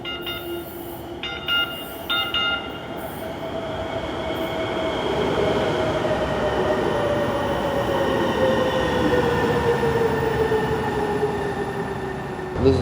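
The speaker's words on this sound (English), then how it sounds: "It's a new light rail station that we have here in Seattle." A light rail train rumbles steadily through a new Seattle station, with a high squeal of wheels sliding downward in pitch, and a few short bell-like chimes near the start.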